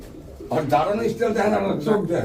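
Giribaz pigeons coo softly at close range, a low throaty burble that swells and repeats in short phrases, with a voice talking over them.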